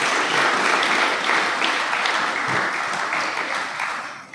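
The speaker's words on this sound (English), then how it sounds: "He deserves a round of applause." A crowd claps steadily and loudly throughout, a dense wash of applause that fades slightly near the end.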